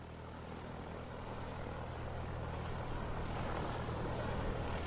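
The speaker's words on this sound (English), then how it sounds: "Plane is in position." Steady propeller aircraft engine drone in a flight video game after takeoff clearance, a continuous broad loud hum that builds slightly over the clip with no voices.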